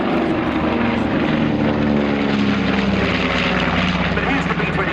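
A B-25 medium bomber of the Second World War flies past at an airshow in Shoreham, its piston engines giving a steady, loud, continuous drone with harmonic throb throughout, a commentator's voice over it.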